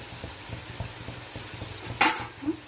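Spices and asafoetida powder frying in a pan for homemade nellika gooseberry pickle, a soft close sizzle with light stirring taps and a brief louder scrape near the end.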